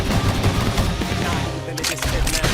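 Gunfire in the video game Xenoblade Chronicles X, rapid bursts of shots layered over a dense, booming battle mix, loud and continuous with sharper crackles toward the end.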